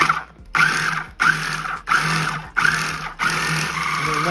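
Food processor pulsing guasacaca sauce of vinegar, lime juice, salt and pepper in short loud whirring bursts, six pulses separated by brief pauses, close and with no speech.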